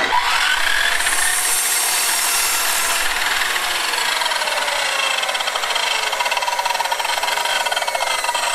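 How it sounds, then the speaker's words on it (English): A power saw rips along a solid pine board, giving a steady, loud, high-pitched cutting whine that holds continuously for several seconds without talk. "So I'll get the saws out."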